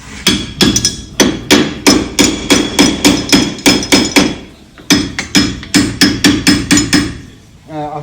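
A hammer strikes a Ford 9-inch axle yoke in two quick runs of sharp, ringing metallic taps, about a dozen blows each with a short pause between, loud and close, with no talking.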